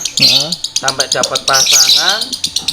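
A male songbird kept for song training chirps and warbles loudly and close, with quick, bright notes repeating in short bursts.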